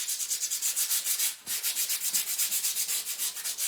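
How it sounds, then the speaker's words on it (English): A painted raw-wood Dollar Tree Christmas train sign is lightly hand-sanded to smooth the raised grain. The gritty strokes are close and rhythmic, briefly pausing near the middle before resuming at the same pace. "I might sand it a little bit,"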